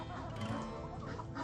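A hen clucks in a farmyard of chickens, ducks and Muscovy ducks at feeding time, with soft, continuous, fairly close clucking and no talking.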